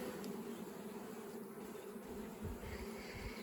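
Honeybees foraging around an Australian hive with pollen coming in, a steady close buzzing hum of many insects running throughout with no voices.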